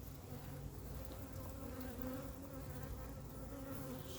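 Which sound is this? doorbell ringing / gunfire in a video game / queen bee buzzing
queen bee buzzing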